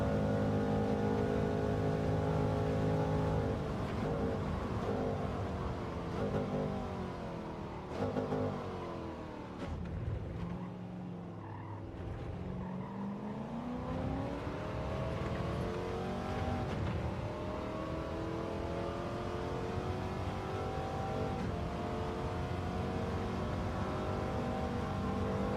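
A race car engine in Gran Turismo 7 revs loud and steady through a time trial run. The pitch climbs and falls with the shifts, dips briefly midway, then winds back up and holds.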